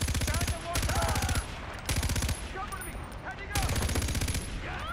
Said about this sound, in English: Stop shooting, stop shooting!